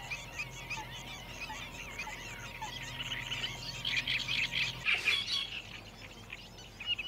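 Greater flamingos calling in a Mediterranean wetland, a dense, steady chorus of honking, goose-like calls that swells louder midway with a sharp burst near the end, over a faint low background hum.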